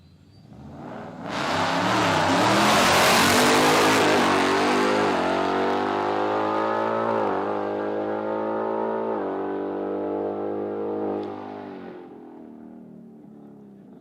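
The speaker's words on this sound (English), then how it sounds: "We're going to send him down the track again. The Pro Charge Mustang." A Pro Charge Mustang drag car launches and roars down the dragstrip in a loud, rising full-throttle run. Its engine note climbs through several gear changes, then fades as it pulls away.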